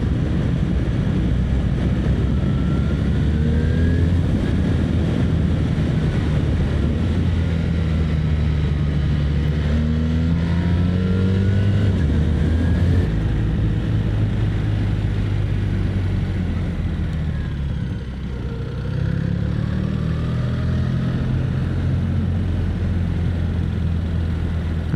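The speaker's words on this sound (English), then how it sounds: "It is so easy to speed on this bike." A motorcycle rides fast along a road around Petworth in wintry conditions, its engine a continuous close drone with deep wind rumble that shifts in pitch as it speeds up and slows.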